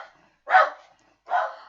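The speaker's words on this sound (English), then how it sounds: "And the dog is barking." A pet dog named Tiggy barks twice, close and loud, with a short silent gap between the two sharp barks.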